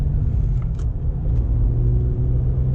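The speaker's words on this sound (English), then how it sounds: "Especially the upshift is quite quick." A Mitsubishi car engine heard from inside, a loud low rumble and drone with brief dips as gears change on a quick upshift, steady throughout with no talk.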